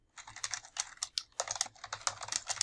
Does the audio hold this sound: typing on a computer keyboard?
yes